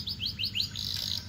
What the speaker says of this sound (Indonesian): Untuk kenari yang satunya itu suaranya di dalam rumah.